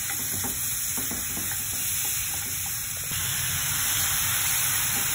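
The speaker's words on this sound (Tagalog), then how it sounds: "So, mix lang natin hanggang sa maging ano na siya, maging white color yung chicken." Chicken breast frying in a pan sizzles steadily and loudly up close while being stirred, with a few faint scraping clicks and no talking.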